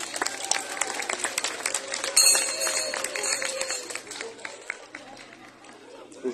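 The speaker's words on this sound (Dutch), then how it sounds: "Geef die mensen een warm applaus." Audience applause at a Saint Nicholas (Sint) event in Hasselt, a crowd clapping steadily for several seconds with chatter and a voice over it, swelling and then thinning toward the end.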